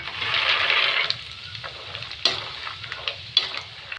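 Peanuts frying in oil for dalmoth, a steady close sizzle in the first second easing into quieter crackling, broken by sharp scrapes and clinks of stirring.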